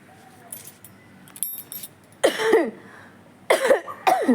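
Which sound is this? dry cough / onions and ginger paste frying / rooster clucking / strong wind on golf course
dry cough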